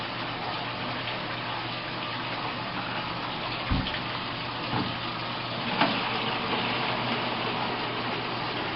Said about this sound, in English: we're going to just wash gravel and sand for a little while